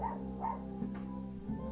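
Dogs bark indoors in a few short yips and woofs at moderate distance, over a low household hum and faint background voices.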